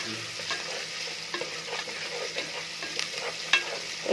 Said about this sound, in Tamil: எல்லாம் ஊற்றி தாளிக்கிறேன்.